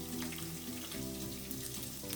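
Chicken pieces for coconut curry browning in a frying pan, giving a steady close sizzle and crackle throughout, with background music tones running underneath.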